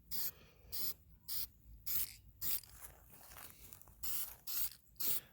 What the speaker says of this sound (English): we are just going to spray these down real quick